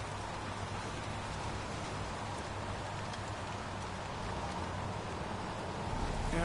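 Steady rain pours throughout a scene in the video game Heavy Rain, a dense, even hiss of drops on surfaces with no voices over it.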